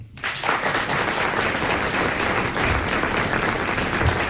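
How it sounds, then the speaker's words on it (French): A French television game show studio audience claps for a contestant who has just won 1000 francs, a dense, steady burst of applause that swells in almost at once and holds loud and full throughout, with no talk over it. "Nous l'applaudissons."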